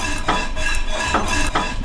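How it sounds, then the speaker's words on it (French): Knives working through meat during home butchering, repeated chopping and scraping strokes at a steady rhythm, close and fairly loud with clinking metal, no speech. "je débite toute ma viande moi-même"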